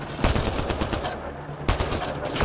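Gunfire in the sci-fi shooter Mass Effect Andromeda, rapid automatic bursts of close, loud shots in a steady stream, pausing briefly before another volley, with combat noise filling the gaps.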